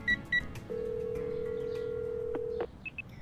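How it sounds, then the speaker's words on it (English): A phone in the video game ACE Academy dials a call: two short keypad beeps, then a long steady dial tone that cuts off, followed by a few faint clicks and two brief tones. "I find it in my phone and give her a call."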